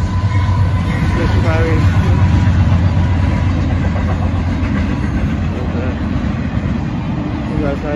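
An empty northbound Union Pacific freight train passes at a road crossing in Austin, Texas, with a loud, steady low rumble and clatter that stays close throughout.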